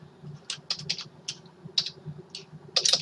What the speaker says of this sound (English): I need to enter these three quantities from the keyboard